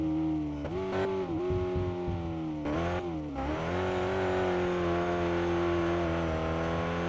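A dirt racing car engine detuned with a different intake, spark plugs and mufflers revs loudly and steadily nearby, with a few throttle blips early before settling into a sustained drone.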